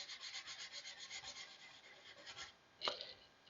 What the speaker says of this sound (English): Everything is sanded down with the 400